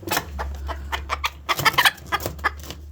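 Bantam hens, a Sebright and a Mille Fleur, cluck in a steady run of short, close calls over a low background hum.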